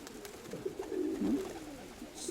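A pigeon coos close by in a low, rolling throaty murmur that swells briefly in the middle before trailing off, with no other sounds over it.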